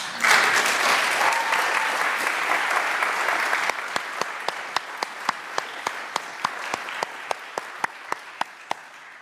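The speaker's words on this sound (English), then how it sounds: "I applaud you all." An audience applauds graduating seniors with a dense wash of clapping that thins out into a few scattered, sharp individual claps.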